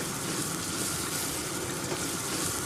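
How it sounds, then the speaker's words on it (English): Onions fry in a pan with a dense, steady sizzle that crackles softly and continuously, with no talking over it. "So we'll start off by frying some onions, get them really soft and sizzling"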